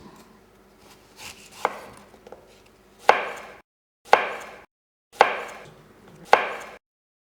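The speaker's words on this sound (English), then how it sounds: "now we want to cube the apples into small cubes" A knife chops peeled apples into small cubes on a wooden board, giving four loud, evenly spaced sharp chops after some softer scraping and cutting sounds, with no one talking.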